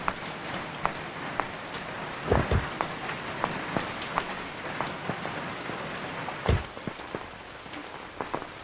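Heavy rain pours steadily in a dramatic film scene, a dense even hiss of falling water with scattered sharper drop impacts and a few louder splashes, heard alone with no talk.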